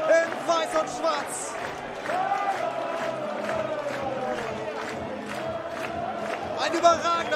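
A football crowd celebrates a 1. FC Bocholt goal, a dense roar of cheering and shouting sustained throughout, loud and continuous with swells near the end, with a commentator's voice over it.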